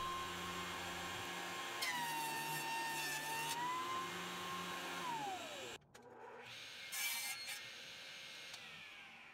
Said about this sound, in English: I'm just going to run it across the joiner a few times